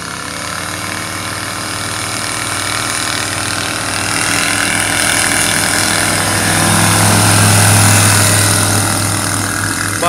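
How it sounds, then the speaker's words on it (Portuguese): Rotax 912 engine on an experimental light aircraft at a model aviation event, running steadily and fairly quietly with a continuous low hum and even drone, swelling slightly near the end, with no talk. "O barulho do motor é bem diferente,"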